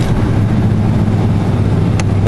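A Toyota Tundra engine idles just after a cold start, a loud steady low rumble running throughout with a couple of faint clicks near the end.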